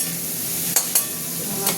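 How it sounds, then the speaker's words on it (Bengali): Prawns frying in a pan over lowered heat, a soft continuous sizzle broken by two or three brief scrapes of a spatula; no talking. "চিংড়ি মাছটা একটু ভাজা ভাজা হোক গ্যাসটা কমিয়ে দিলাম"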